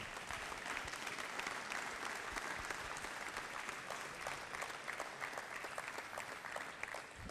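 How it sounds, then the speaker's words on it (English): Audience applause at a school athletic signing ceremony, a steady, even burst of many hands clapping that carries on at a fairly distant, moderate level throughout. "Let's give these guys a big round of applause."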